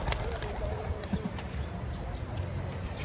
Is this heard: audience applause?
no